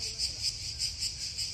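A loud swarm of beetles in a tree makes a dense, shrill, pulsing buzz, near and continuous, repeating in quick regular surges with no voices.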